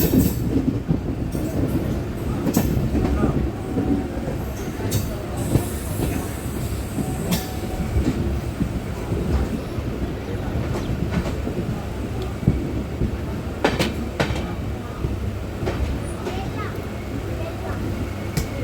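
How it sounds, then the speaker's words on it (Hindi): Passenger train pulling into Bela railway station, a steady low rumble of rolling wagons with faint clickety-clack and occasional metallic squeal throughout, close and continuous, with voices in the background. "तो अपनी ट्रेन पहुँच रही है बेला रेलवे स्टेशन।"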